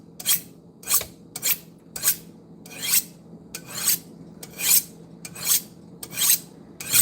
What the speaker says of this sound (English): This is a shallot, so we're going to be chopping up the shallot.